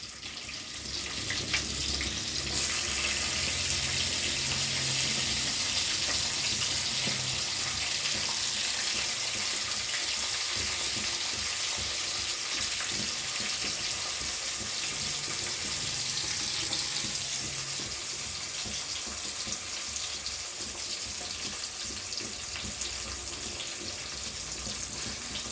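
Onions frying in a pan give a steady, continuous hiss and sizzle throughout, close and even in level, with no talk.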